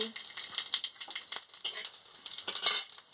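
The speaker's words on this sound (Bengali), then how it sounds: "গরমে গরম হয়ে যে শুকনো লঙ্কা দিয়ে দিচ্ছি ফোড়ন দিয়ে দিচ্ছি" Dry red chillies crackle and sizzle in hot oil as a tempering for a raw tamarind sour dish, with a metal spoon clinking and scraping against the pan throughout, close and steady.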